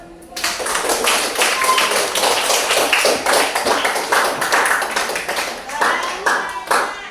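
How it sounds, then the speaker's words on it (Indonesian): An audience claps together after a group presentation in a classroom, with steady, dense clapping that goes on for several seconds and thins out toward the end, while voices talk over it. "Ya, aplaus dulu."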